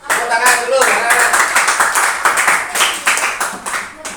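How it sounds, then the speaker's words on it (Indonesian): Children in a classroom clap their hands together in a dense, lively burst that stays fairly loud throughout, with a few young voices mixed in under the clapping. "Tepuk tangan dulu."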